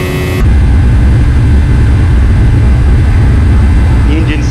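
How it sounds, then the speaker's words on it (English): Boeing 757 jet engines in flight in the X-Plane 11 simulator, a loud, steady low roar with broadband rumble that sets in abruptly and holds constant. "The engines sound a lot angrier now that they're on and we're in the sky"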